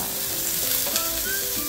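Ribs and plenty of chopped garlic fry in a pan with a loud, close, continuous sizzle and hiss.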